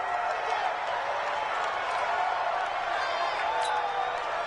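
Steady stadium crowd roar inside a domed arena during a football video game, a dense continuous wash of cheering and murmur that stays even and fairly loud throughout, with broadcast commentary voices layered over it.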